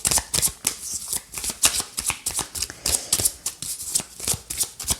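Tarot cards handled and shuffled close up, with rapid repeated riffling and flicking bursts in a quick uneven rhythm, and no talking.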